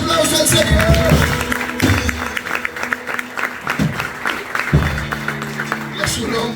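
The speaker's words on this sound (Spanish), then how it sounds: "dale más fuerte ese aplauso al Señor." A church congregation claps and cheers in a loud, continuous burst under energetic worship music, while a preacher talks over the crowd throughout.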